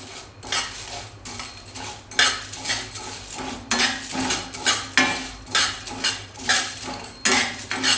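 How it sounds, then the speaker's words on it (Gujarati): Cardamom pods dry-roasting in a pan for homemade chai masala, stirred with a metal spoon that clinks and scrapes against the pan in a steady repeating rhythm, close and fairly loud, with no talking. "સૌથી પહેલાં એલચીને થોડી શેકી લઈશું"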